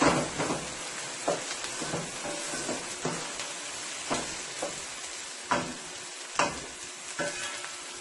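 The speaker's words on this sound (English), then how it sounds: "you're going to let this cook for about a minute with the onions." Onions sizzle in a pan for a sardine and potato stew. The frying hiss is close and continuous, and it swells with regular scraping stirs every second or so.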